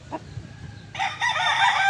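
A gamefowl rooster crows loudly and close by. The crow starts about halfway through as a strong, sustained call, following a few faint clucks and soft background noise.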